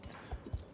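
A horse walking in Star Stable, three soft hoofbeats in an even clip-clop rhythm over less than a second, close and moderately loud.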